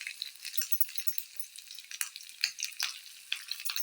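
Cumin, pepper, ginger and curry leaves frying in hot oil: a close, steady crackling sizzle with frequent small pops and spits.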